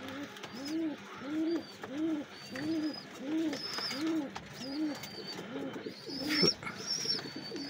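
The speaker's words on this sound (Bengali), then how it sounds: "কবুতর দেখেন একদম জিরো পরের বাচ্চা, চিচি করে বাচ্চাগুলা।" Young white golden and kamagar pigeons with deep red eyes call in a coop: a regular series of soft, rounded coos, repeated about a dozen times, with thin high chirps breaking in now and then.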